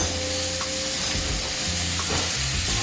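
Butter melting in a steak pan off the heat gives a steady, broad frying sizzle that continues without a break, with low clatter underneath and no talking.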